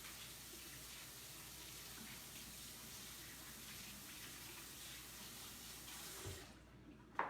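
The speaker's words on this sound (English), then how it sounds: "I'm just washing my hands." Tap water runs steadily into a kitchen sink while hands are washed, a constant close splashing rush that continues throughout, with a small clunk near the end.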